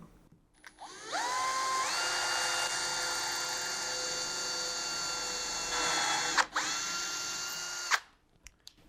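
A power drill bores through the wooden crosspiece of an L-shaped cabinet counter, fixing a loose 6 mm back panel, giving a steady high whine for about seven seconds with a brief dip near the end before stopping.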